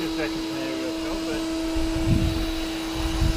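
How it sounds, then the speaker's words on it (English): A strong vacuum cleaner runs steadily inside a 1981 Mercedes-Benz W126 280SE, sucking up ants with a close, even whine and hum while someone talks over it. "Strongest vacuum cleaner I've got"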